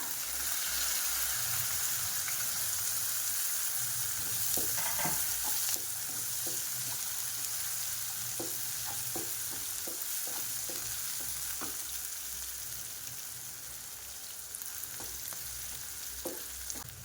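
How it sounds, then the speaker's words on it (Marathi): Finely chopped onion frying in a pan with ginger-garlic paste for a mixed vegetable sabji, a continuous hissing sizzle with repeated scraping stirs in the middle stretch, close and steady. "त्यानंतर घालणार आहोत बारीक चिरलेला कांदा,"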